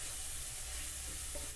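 Ground spices, cumin powder and Kashmiri red chilli powder, are stirred and roasted in a pan for dal palak tadka. A brief, fairly quiet but dense frying hiss holds steady throughout.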